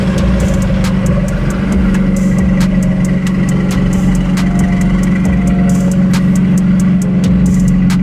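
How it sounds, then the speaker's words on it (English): Rough, rattling idle of a JDM car engine at a car meet, with a steady low mechanical chatter from the clutch running continuously and close throughout, no talking. "That clutch chatter."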